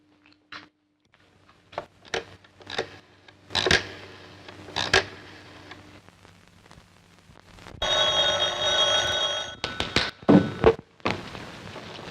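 An old telephone bell rings in a burst amid scattered thumps and clicks in a quiet room, a sustained metallic ring partway through with sharp knocks around it.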